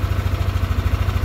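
A Yamaha NMAX scooter's CVT idles close by with a fast, regular clicking rattle beating against the low engine drone, loud and steady with no talking.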